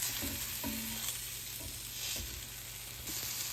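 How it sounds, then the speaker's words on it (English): Plant-based steaks sizzle steadily in a hot pan, with a few soft clicks and scrapes as they are turned over, all under a constant frying hiss with no talking. "let's give these steaks another flip now"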